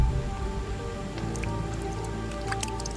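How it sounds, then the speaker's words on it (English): Steady heavy rain pours down in a Singapore jungle, a dense continuous wash with close drips and patters spattering on leaves throughout. "Rain."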